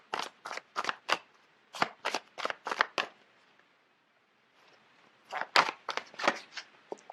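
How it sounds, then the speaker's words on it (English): Tarot cards are shuffled by hand in quick crisp riffles, a string of sharp papery flutters, a short pause, then another burst of shuffling close up. "So let me just pull out a card."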